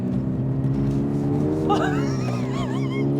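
A 2023 Subaru BRZ sports car slides sideways with traction control on, its engine revving loudly and rising in pitch, with tire squeal and a brief voice heard faintly over it.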